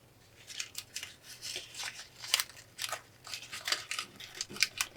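Scissors snipping twine for a bow, a series of small crisp cuts and rustles at an uneven rhythm, close and fairly quiet.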